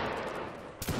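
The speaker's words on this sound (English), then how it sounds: "We got some brave souls firing to save us." Musket fire in the Napoleonic Wars mod of the Mount and Blade Warband video game: a steady background rumble breaks into a single sharp, loud shot near the end.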